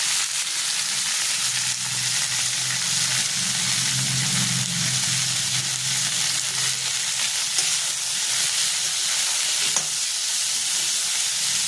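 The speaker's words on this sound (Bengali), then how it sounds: "কপিটা একটু ভাজা হলে গন্ধটা ভালো হবে।" Cauliflower fries with ground cumin, coriander, ginger, tomato paste, Kashmiri chilli, salt and turmeric in a pan, giving a loud, steady sizzle with occasional stirring scrapes and no talking.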